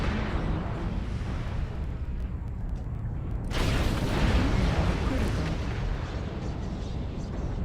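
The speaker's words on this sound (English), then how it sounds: "Airstrike" Airstrike explosions in a video game, a dense rumbling barrage of blasts with a sharper burst midway, continuous and loud with faint voices underneath.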